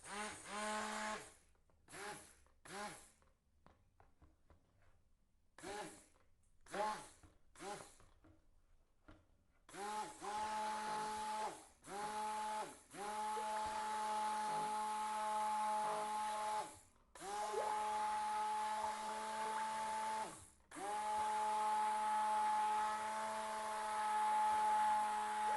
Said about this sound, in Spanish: Lo vamos a mezclar con la batidora un poquito.